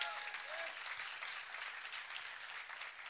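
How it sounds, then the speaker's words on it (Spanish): A church congregation applauds during a sermon, giving a continuous, even crackle of many hands clapping, heard at a moderate distance and fairly quiet. "Dele otro aplauso fuerte a Dios."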